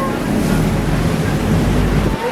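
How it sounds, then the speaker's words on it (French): Big waves heard from a boat at sea make a loud, steady wash of surf mixed with heavy wind buffeting the microphone, with some talk underneath. "il y a des grosses vagues"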